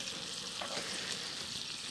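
Steak sizzles in a frying pan over a campfire at a solo night camp, a steady dense hiss and crackle throughout, close and fairly loud, with no voices.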